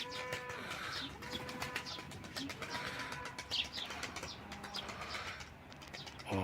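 A young smoky-coloured pigeon coos softly and repeatedly close by, with faint wing flutters and light chirps in a quiet loft, and no voices.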